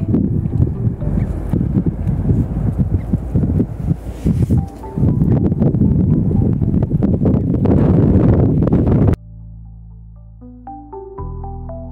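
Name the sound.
strong wind blowing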